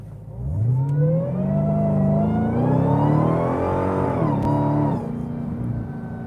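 A Dodge Demon 170 accelerates hard in first gear, its engine note climbing steadily in a loud, close roar before a brief dip and a lower, steadier drone.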